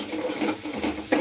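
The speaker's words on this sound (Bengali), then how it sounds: "হলুদ গুঁড়োটা দিয়ে একটু নাড়াচাড়া করে নেবো বন্ধুরা" Turmeric powder being stirred into a Bengali kajal gouri fish curry in a pan: a close, steady scraping and swishing of the spoon through the sauce, with a slightly sharper scrape at the very end.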